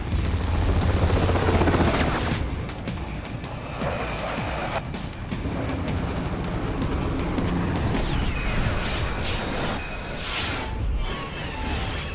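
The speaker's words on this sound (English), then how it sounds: "All right, bring the chopper around." A helicopter arrives in the video game Metal Gear Rising: Revengeance, its loud rotor and engine roar swelling early and then continuing as a sustained thrum with whooshing shifts over about twelve seconds.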